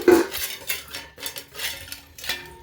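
Metal thali plates are set down and shifted on a kitchen surface while preparing idli, giving several sharp clanks and light metallic rattles spaced irregularly and close by.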